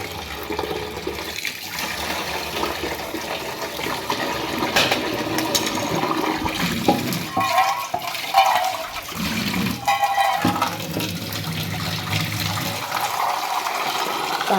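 Water running from a tap into a container at home, a steady splashing gush that lasts the whole stretch and rises and falls slightly, close by, with a few faint clinks and no talk.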